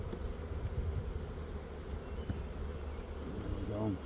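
Honeybees buzz steadily around an opened hive while early spring splits are made into nucs, a dense, continuous drone with a few louder passes near the end as bees fly close.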